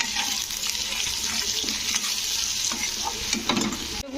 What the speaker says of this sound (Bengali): দিয়ে এবারে আলুটাকে আরও একটু ভালো করে ভেজে নেব।